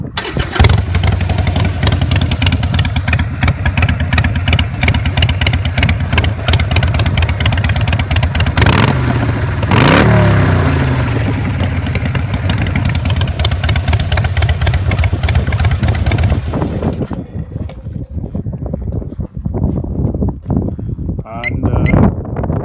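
A 2015 Harley-Davidson Iron 883 motorcycle engine cranks and fires up close, then settles into a loud, throbbing run for about sixteen seconds before cutting off, leaving quieter background noise.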